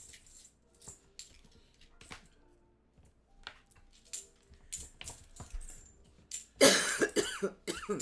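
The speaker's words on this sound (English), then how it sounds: "She can't even not cough for 5 seconds" A series of short, sharp coughs scattered through quiet moments, ending in a louder, harsh burst of coughing.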